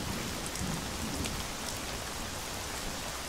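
Heavy rain pours steadily, a dense and even hiss of falling water with no pauses, fairly soft in level throughout and with no voices over it.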